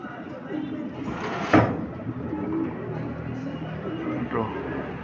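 Racing pigeons landing at a loft during a summer race, with soft cooing, a brief flapping burst and a knock close by, while people talk over the sounds.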